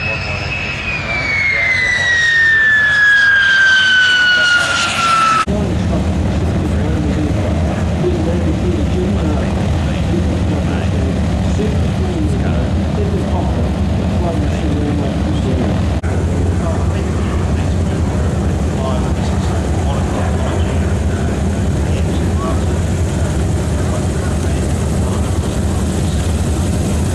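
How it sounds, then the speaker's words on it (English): Propeller aircraft at the Warbirds over Wanaka air show, 2008, opening with a loud descending whine that gives way to a continuous, heavy engine drone filling the open air for the rest of the stretch. "down there we hear propeller"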